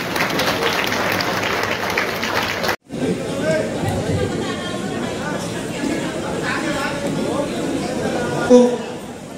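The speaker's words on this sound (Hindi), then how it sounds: "मैं चाहता हूँ उनके सम्मान में जोरदार तालियां हो।" An audience at a humorous poetry gathering claps for an honoured guest, a steady round of applause with crowd chatter mixed in, briefly cut off and then resuming.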